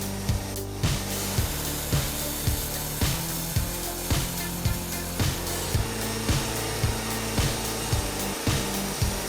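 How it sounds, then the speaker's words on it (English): A wood cutting machine sawing through a log, loud continuous grinding saw noise with a steady repeating rhythmic thump about twice per second throughout. "Equipped with a sharp blade system, the machine produces perfect and precise wood cuts"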